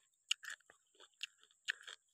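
Crunchy purple winged beans being chewed up close: a few crisp, moist crunches in short irregular bites with quiet gaps between them, no voices.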